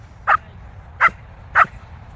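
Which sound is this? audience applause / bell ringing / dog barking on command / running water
dog barking on command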